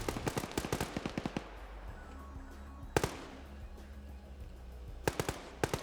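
In a military video game, gunfire and RPG hits crackle in rapid bursts, with sharp automatic volleys at the start, a single heavy impact midway and another quick burst near the end over a low rumbling background.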